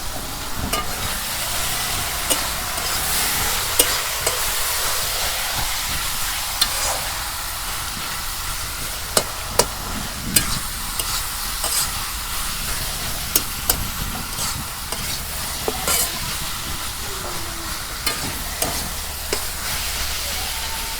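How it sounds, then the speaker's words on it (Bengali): Tomatoes sizzle and fry in a pan for a home-style pasta noodle dish, a steady broadband hiss with scattered scraping clicks from stirring, close and continuous with no talk. "আমার টমেটো ভাজা হয়ে গেছে"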